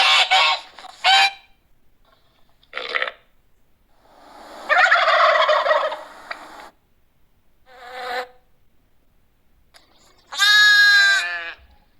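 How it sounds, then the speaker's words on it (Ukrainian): Farmyard birds calling nearby: short honks, a rattling gobble and a final shrill burst of squawks, separated by quiet gaps. "Це лунають голоси сірійських тварин."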